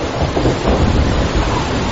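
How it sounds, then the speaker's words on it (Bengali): Heavy rain pours down outside in a steady, dense roar that stays loud and unbroken throughout, with no voices. "ঝমঝম করে বৃষ্টি নামলো বাইরে"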